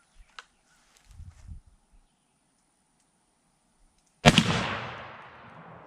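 A Beretta shotgun fitted with a Kicks High Flyer extended choke fires a single loud, sharp outdoor blast that rings away. A few faint thumps and rustles precede it.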